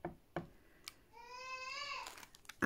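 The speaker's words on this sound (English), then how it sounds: "I've just put my daughter down for a nap, so that's why you can hear her in the background." A young girl babbles and vocalizes softly in the background of a quiet room, one drawn-out, tonal, rising vocal sound with a few faint bumps and taps around it.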